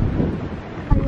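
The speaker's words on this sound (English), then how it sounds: "That wind is being hard on everything this morning." Strong morning wind buffets the microphone outdoors, a loud continuous low rumble with a brief harder gust near the end.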